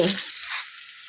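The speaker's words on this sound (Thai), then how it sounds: "เทน้ำมันลงไปก่อน นี่เจ้าน้ำมันทอดแล้วใส่หอมขาวตุบลงมาเลย" Shallots dropped into hot oil in a pan, a brief burst of loud, hissing sizzle that fades quickly, close up with no speech.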